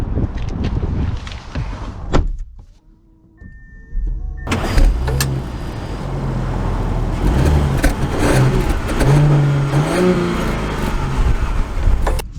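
A 2023 Audi A8 starts off after a quiet moment with a brief whir. A smooth, moderate engine and road rumble then builds and holds steady as the car drives away.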